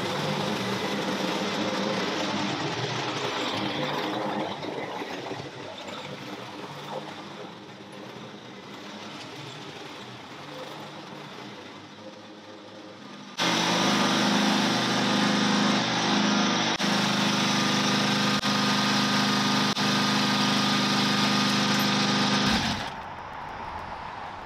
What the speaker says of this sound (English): We'll finish mowing this little piece and we'll see if the mower can make it in.